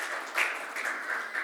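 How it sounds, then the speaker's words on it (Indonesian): Church congregation applauding during a Sunday service, a brief spell of soft, diffuse clapping from a crowd heard at some distance. "Berikan tepuk tangan buat Tuhan."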